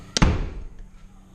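A flimsy, lightweight temporary door bangs shut with one sharp hollow thud, then a brief softer knock as it settles, close by in a quiet room.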